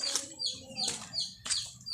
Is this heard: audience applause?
no